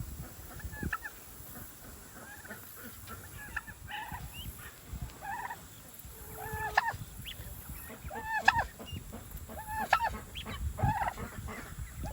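A farm bird, likely a turkey, gives repeated gobbling honks at moderate distance, in bursts spread across outdoor background noise.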